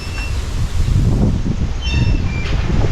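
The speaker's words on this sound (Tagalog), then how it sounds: "Bilis ng hangin." Strong wind roaring across the microphone outdoors, a loud continuous low buffeting rush with gusty swells, and faint higher tones briefly showing through near the end.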